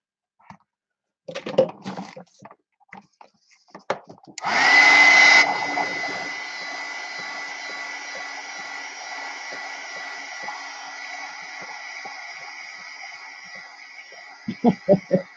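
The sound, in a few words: hair dryer drying watercolor painting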